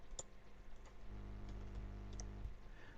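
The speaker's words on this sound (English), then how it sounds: "I'm just typing this in as examples" Fingers type on a computer keyboard while entering example options into a text select field, a steady run of soft close key clicks and taps with a few sharper strokes.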